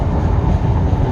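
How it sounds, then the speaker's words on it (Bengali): A train passes close by as a loud, steady low rumble that fills the whole brief moment. "এই যে ট্রেন যাচ্ছে"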